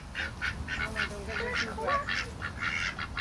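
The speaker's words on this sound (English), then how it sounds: "Oh, look at these ducks. Quack, quack." Ducks outdoors at a medieval-themed venue give a run of rapid, nasal quacks and honks, fairly close and steady, with a person's quiet voice faintly underneath.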